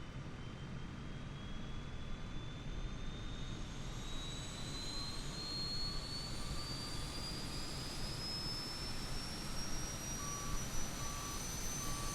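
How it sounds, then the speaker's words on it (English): Airbus A320neo auxiliary power unit starting up in Microsoft Flight Simulator, a broad steady turbine roar with a whine that slowly climbs in pitch as it spools up, heard from outside the aircraft. "Let's hit the APU start, and then let's go outside so you can hear it turn on."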